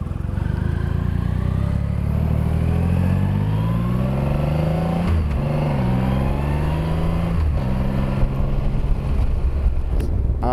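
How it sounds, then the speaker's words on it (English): A Triumph Rocket 3 motorcycle on a demo-day test ride drones loudly and steadily, its engine pitch climbing and dipping through gear changes under heavy wind buffeting, with no talking. "for those of you that said that I should ride the Triumph Rocket 3, well, I'm doing it."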